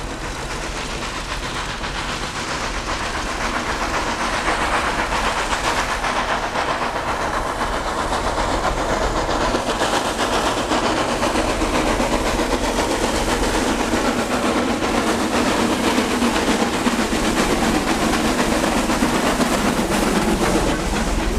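American steam locomotive hauling a sugar cane train in Cuba over mainline track, a steady loud rumble of running gear and rail noise with a continuous roaring exhaust wash throughout, no voices.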